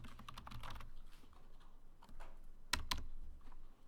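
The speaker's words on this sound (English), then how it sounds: "Enter, and I can type my name." A name is typed on a computer keyboard in drafting software: a quick run of close, crisp key clicks, then a pause and two sharper, louder keystrokes.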